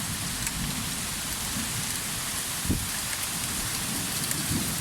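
Heavy summer rainstorm on a hot day, steady dense hiss of rain pouring on surfaces, loud and continuous, with a brief low rumble partway through and no voices.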